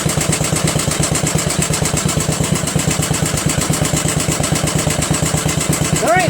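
A Briggs & Stratton flathead engine on a Murray Select 13.5 hp 40-inch riding lawn mower runs loud and close, its rapid, even exhaust pulses throbbing steadily throughout.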